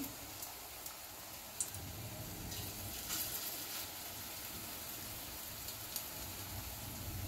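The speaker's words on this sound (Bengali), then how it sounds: "তারপরে লাল লাল করে আমি ভাজবো" Gime shaak fritters frying in hot oil, a soft, steady sizzle with light crackles and occasional small pops, fairly faint and continuous.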